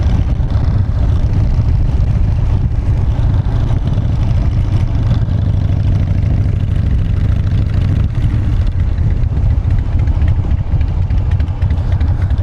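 A SuperGlide motorcycle engine idles steadily at close range, a continuous loud low rumble with a smooth, even throb throughout and no talking.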